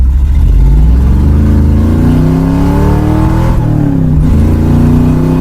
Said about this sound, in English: A little bit of a burnout there.